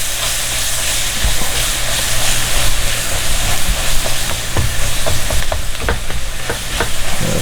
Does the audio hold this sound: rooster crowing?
no